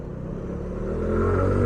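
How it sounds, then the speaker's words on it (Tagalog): A Suzuki Address scooter engine climbs uphill, its motor note rising and growing louder over a short stretch, with steady road rumble and no speech. "Lakas sa paahon nitong Suzuki address."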